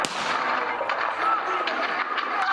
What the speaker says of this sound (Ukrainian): аудіозапис, у якому перемішані постріли і вибухи